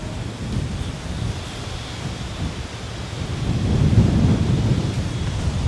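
Wind buffets across an open golf course as a constant low rumbling roar that swells louder toward the end, with no other sounds or voices over it.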